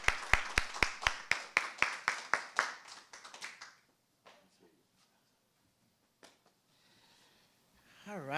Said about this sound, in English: Let's give a round of applause for the future Dr.